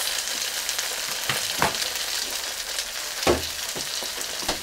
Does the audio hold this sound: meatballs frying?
yes